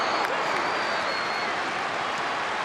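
A stadium crowd at an Arsenal versus Tottenham women's football match applauds and cheers a defensive play in a steady, dense roar of clapping, with commentary faintly beneath it.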